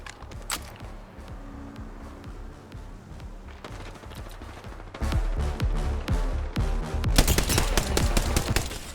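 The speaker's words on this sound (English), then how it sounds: "Shooting at that bloodhound" Automatic weapon fire in the battle royale video game Apex Legends, rapid rattling bursts with sharp individual cracks, quieter and sparser at first, then much louder, denser volleys in the second half.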